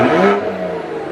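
A 2011 BMW 335is engine revs briefly, a loud close mid-pitched rise that settles back to a steady hum within a second.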